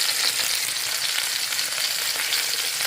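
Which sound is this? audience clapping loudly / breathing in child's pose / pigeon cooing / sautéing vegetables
sautéing vegetables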